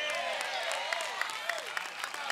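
Women in a church congregation applaud in a steady patter of claps while a voice speaks over them.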